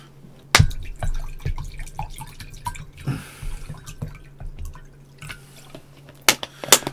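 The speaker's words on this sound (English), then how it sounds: "I've got to pour some water." Water is poured and drips with splashy trickles and a few sharp clinks of glass, close by and fairly loud, with irregular bursts and no talking.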